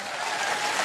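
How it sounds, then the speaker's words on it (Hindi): Dense, steady clapping from a crowd, a continuous broadband patter that holds at an even level for under a second with no voices over it. "ताली बजा दो"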